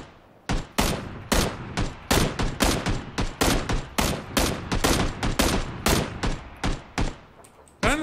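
Gunfire in PUBG Battlegrounds during a duo match: a rapid series of loud, sharp shots in close bursts, some spaced and some clustered, ringing near and dominant with no talk over them.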